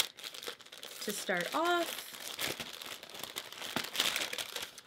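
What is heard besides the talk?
wrapping paper crinkling while unboxing a Dyson Corrale straightener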